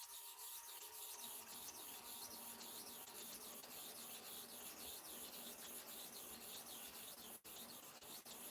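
A barber's blade stroked by hand against a sharpening surface, steady repeated rubbing strokes in a slow, even rhythm, close and fairly quiet, with no voices.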